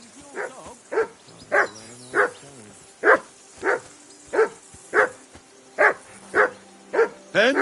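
A dog barks in the video game Kingdom Come: Deliverance 2, a steady series of about a dozen single woofs at a regular pace, clear and fairly close with no talk over them.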